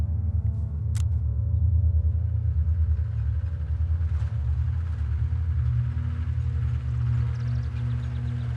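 A military truck approaches on a wartime battlefield, its steady low engine rumble droning continuously and loudly throughout, with a brief sharp click near the start.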